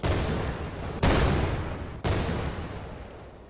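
Guns on a boat in a modded video game fire in three heavy booming volleys about a second apart, each a sharp, loud blast decaying into a rumbling tail.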